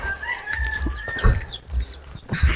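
Chickens cluck beside a chicken coop in a rural yard. A few close, sharp clucks and squawks break out in short bursts over low background noise.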